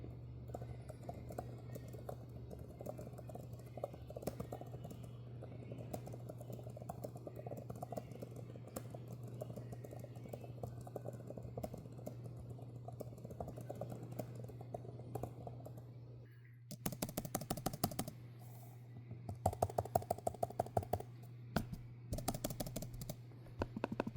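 Steady typing on an Apple iPad Magic Keyboard over a constant low hum, then brief pauses and bursts of sharper, louder key clatter near the end.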